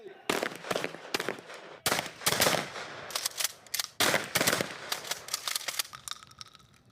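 Less-lethal shotgun firing beanbag rounds during police training: a rapid string of loud, sharp, close-range shots, one cracking after another with brief gaps between them.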